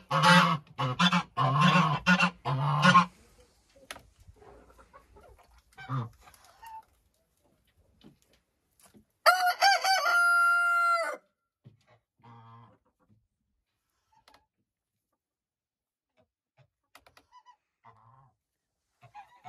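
Laying hens in a coop let out a loud run of drawn-out, honking calls partway through, followed by a few softer, scattered clucks in near quiet, after someone speaks at the start.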